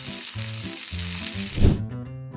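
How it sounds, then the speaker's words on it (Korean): A burger patty sizzling on a hot cooking surface gives a dense, steady crackle for about a second and a half, broken by a short thud, with faint tones behind it in a brief, close clip. "패티를 굽고"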